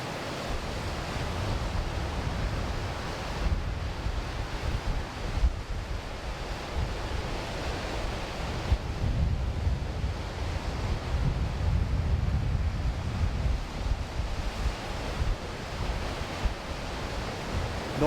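Heavy ocean surf breaks on the coast during a stormy low-pressure system, with average waves around 1.2 m and peaks near 2.5 m, producing a continuous close, loud roar of crashing water and wind with surges every few seconds.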